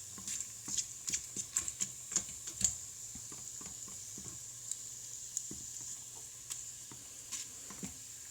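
Whole spices sizzle in hot oil in an Instant Pot, a faint, steady hiss broken by scattered small pops and crackles.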